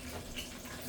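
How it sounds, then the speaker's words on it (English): Water poured off from a can of corn runs in a faint, steady trickle into a sink, splashing softly for about a second with no talking. "let me just drain the water out."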